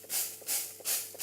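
Three quick hissing pumps of Frylight cooking oil spray, close and evenly spaced, each a short airy burst with a faint click at the start.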